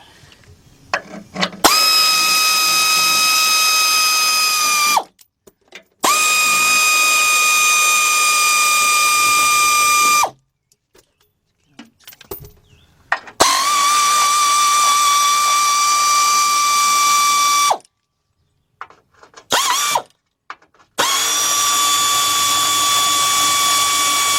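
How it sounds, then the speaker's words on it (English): An air ratchet spins out 15mm bolts from a plastic shield during AC compressor replacement on a Cadillac Escalade, Chevy Tahoe or GMC truck, giving four loud, steady pneumatic whines, each several seconds long, separated by brief quiet pauses. "So, get our air ratchet."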